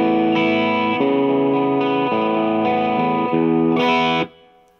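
A distorted electric guitar plays a run of chords with a gritty, hairy tone and a short reverb tail ringing out at the end.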